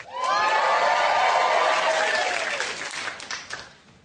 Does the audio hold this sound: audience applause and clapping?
yes